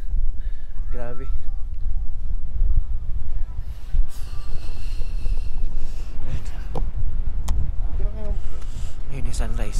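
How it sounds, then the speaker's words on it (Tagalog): Strong, cold wind roars without a break across the foggy Mt. Olis viewpoint campsite at dawn, a loud, low, buffeting rumble over the microphone, with faint voices breaking through now and then. "Oh, lakas ng hangin."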